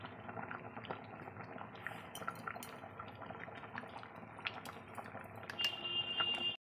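Dal simmering with turmeric in a pot gives off a quiet, continuous bubbling with soft pops and a few sharper clinks near the end.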